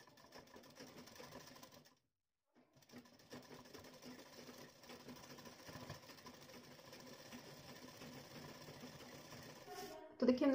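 A sewing machine stitches lace onto the lower edge of a blouse, a steady close mechanical whirring that pauses briefly, then runs again and builds slightly louder toward the end.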